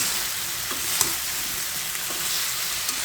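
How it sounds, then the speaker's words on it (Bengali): Fried snakehead fish sautés with vegetables, including flat beans and potato, in a pan. It makes a steady, even sizzle with a few faint stirring clicks, close and alone without any talk. "এই সবজির সাথে একটু কষিয়ে নেবো"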